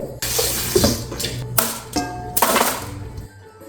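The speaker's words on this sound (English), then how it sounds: "I'm gonna rinse this out." Tap water runs in bursts over butternut squash being rinsed in a kitchen sink, splashing and spattering close up and pausing between gushes, with no speech.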